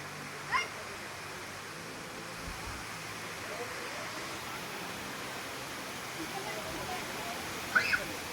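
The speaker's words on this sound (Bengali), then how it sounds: "শুনতেই পাচ্ছেন ঝর্ণার আওয়াজটা কতটা সুন্দর," Steady broadband rush of a waterfall in Meghalaya, an even wash of water noise throughout with a couple of brief faint knocks near the start and end.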